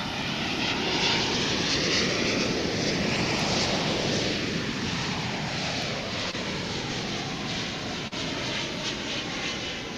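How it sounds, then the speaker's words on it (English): Boeing 777 airliner arriving at Dallas/Fort Worth International Airport on a flight from Honolulu, a loud continuous jet engine roar with a sweeping tonal whine that holds steady throughout, no voices. "here comes a 777 in from Honolulu."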